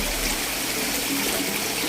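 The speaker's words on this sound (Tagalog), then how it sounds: "lahat po ay dinrain namin para mapalitan po yung tubig nila." Water drains from a tilapia fish tank at a fish farm, a loud, steady rush of gushing water that runs continuously with no talking.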